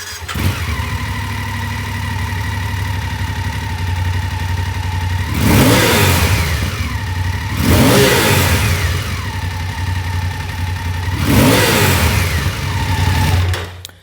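A BMW F850GS motorcycle engine idles with a throaty note through an Akrapovic slip-on exhaust, then revs sharply three times, each rev climbing and dropping back to idle, loud and close.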